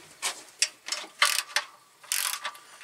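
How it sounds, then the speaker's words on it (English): A ratchet clicks as bolts are run down during a clutch replacement on an Eaton Solo clutch, close and loud, in several short bursts of rapid clicking separated by brief pauses. "Got my ratchet. Let's start running some of these down."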